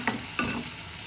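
Garlic, onion and curry leaves frying in hot oil until golden for a brinjal curry, a brief steady sizzle broken by two quick stirring scrapes.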